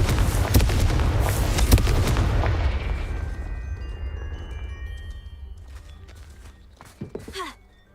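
The Confringo spell in the game Hogwarts Legacy sets off a loud, booming explosion with a broad rumbling blast that decays over several seconds into scattered crackles and a few trailing thuds.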